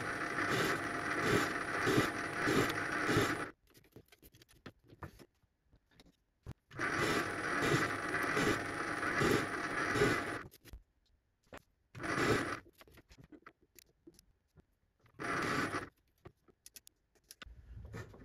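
A milling cutter on a Proxxon MF70 mini mill cuts a gear blank in three loud bursts of dense, gritty machining noise, each several seconds long, separated by near-silent pauses and a short final burst.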